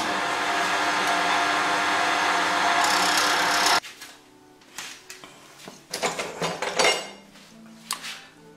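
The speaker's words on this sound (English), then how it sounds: "This is a 5/16 spindle gouge." Wood turning on a lathe with a 5/16 spindle gouge: a steady loud hiss of cutting for several seconds stops abruptly, followed by a few scattered scraping and tapping touches of the tool.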